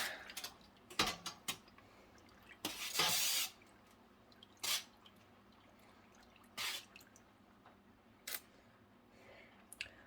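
Yarn dye mixture is stirred in a container, with a utensil clinking and scraping against the sides in several short, sharp bursts over quiet dripping, close and fairly soft.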